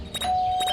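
A doorbell rings in the Scary Teacher video game: a short electronic chime with a sustained bright tone and two quick accented strikes, loud and clear.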